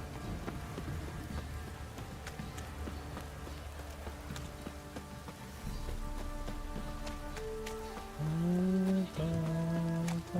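Rain falls in The Witcher 3: Wild Hunt as a steady soft hiss under hoof clops and game sounds, with tonal music-like notes rising near the end.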